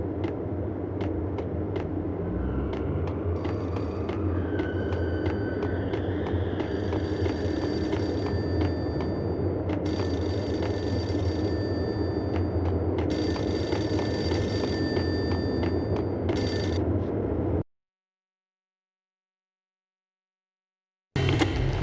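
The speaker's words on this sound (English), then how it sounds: "The payphone started to ring." Payphone in the video game Max Payne rings with a loud, repeated electronic bell over a low rumbling background ambience, cutting to silence near the end before the game sound briefly returns.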